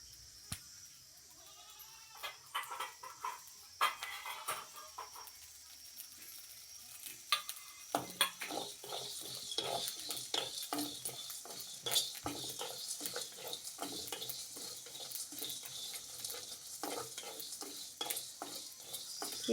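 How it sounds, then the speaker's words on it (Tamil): Pepper and poppy seeds dry roasting in a pan for a duck curry spice mix, with soft scraping stirs and a light crackle that grows busier and denser partway through, steady and close. "கொஞ்சமாக கசகசா தான் சேர்த்து இப்போ வந்து வறுத்துக்கிட்டே இருக்கேன்"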